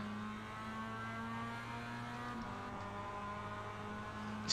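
A Mazda Cup race car engine in the iRacing sim on the Road America circuit drones steadily at constant pitch, dipping briefly as it shifts, moderately faint and continuous with no voices.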